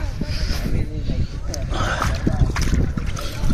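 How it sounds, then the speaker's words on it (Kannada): Cold pond water at Jaisalmer Fort splashes and sloshes under a hand in soft, uneven dabbles, heard close among a constant rush of outdoor background noise. "ಆ ರಾಜರು ಮುಟ್ಟಿದ ನೀರನ್ನ ಒಂದ್ಸಲ ಮುಟ್ಟೋಣ"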